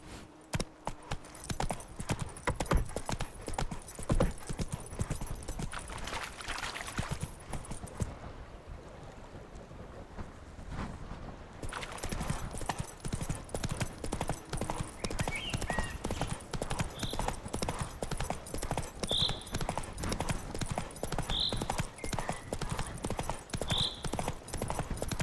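A horse gallops in The Witcher 3, its hoof clip-clops pounding steadily and close for most of the stretch, pausing briefly in the middle before resuming, with faint bright chimes over the hoofbeats.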